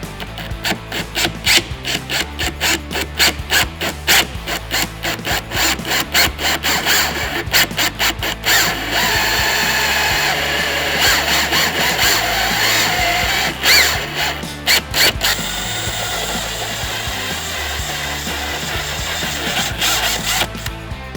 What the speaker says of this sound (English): now that we got our pilot hole started here